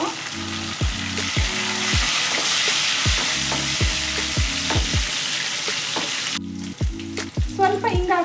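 Slit green chillies frying in hot oil in a pan, a dense continuous sizzle close by, joined by repeated tonal taps and scrapes of a utensil against the pan, with no speech.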